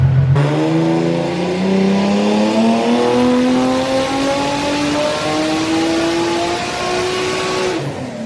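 Turbocharged Nissan 350Z engine on a dyno pull, revving loud and steady as the pitch climbs smoothly over about eight seconds, then cutting off abruptly near the end.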